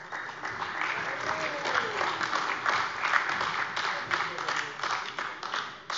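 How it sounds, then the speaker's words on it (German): Applause fills a plenary session of the Hessian state parliament, a dense, steady wash of many hands clapping from a large assembly, sustained throughout and gradually easing toward the end. "Applaus"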